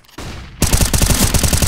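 Rapid AK rifle fire in CS:GO, a loud, dense burst of automatic shots that starts abruptly partway in and runs steadily to the end, preceded by quieter game ambience.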